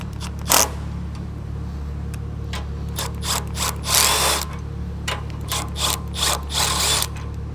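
A ratchet driving in the bolts of a bull bar bracket on a Ford Bronco, clicking in several quick bursts with pauses between them, close and fairly loud, with no talk.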